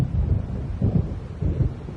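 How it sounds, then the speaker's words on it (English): Low rolling thunder from an approaching storm in the game Alan Wake, a soft rumble swelling in three brief pulses beneath steady wind, heard alone without voices. "It seems there's a storm coming."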